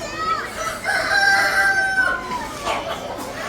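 A rooster crows once, a drawn-out call, at moderate distance, with faint background noise, at a flower show in Wayanad with varieties of poultry and pigeons.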